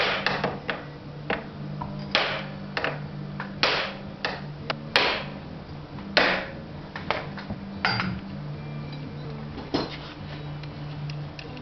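Repeated sharp metallic hammer blows on a Honda TRX Foreman ATV A-arm to knock the ball joint free, irregularly spaced strikes of varying force with faint ringing between.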